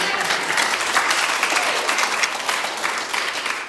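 Sustained audience applause at an Alcoholics Anonymous speaker meeting in Tampa, Florida, a steady, dense clatter of many hands clapping throughout, fairly loud and close, with no talk over it.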